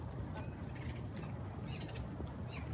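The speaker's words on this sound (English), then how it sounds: "I hear the birds." Birds calling around a pond in a park ramble, with several short chirps and quacking-like calls spread over steady outdoor ambience, fairly faint and distant.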